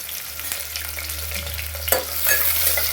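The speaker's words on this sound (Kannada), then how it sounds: "ಸ್ವಲ್ಪ ಫ್ರೈ ಮಾಡಬೇಕು. ಹಸಿ ವಾಸನೆ ಹೋಗೋ ತನಕ ಫ್ರೈ ಮಾಡಬೇಕಾಗ್ತದೆ." Sliced onion and curry leaves frying in a pan for a moth bean sambar, with a steady close sizzle and stirring scrapes, getting louder and brighter toward the end.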